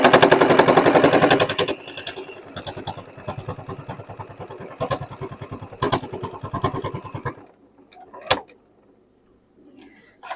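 A home sewing machine stitches along the edge of scrap fabric in rapid rattling bursts, running fast at first, then in shorter runs before stopping, with a sharp knock near the end.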